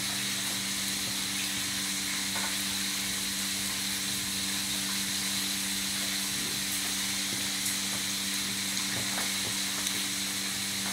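Marinated, flour-coated chicken pieces frying in oil, a constant dense crackling sizzle with a low steady hum underneath, unbroken throughout.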